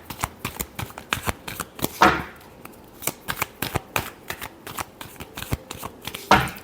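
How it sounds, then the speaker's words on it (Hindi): Tarot cards are shuffled by hand in a quick, crisp flurry of riffles and slaps. Two brief louder bursts stand out among the steady clicks, with no voice heard. "last shuffle"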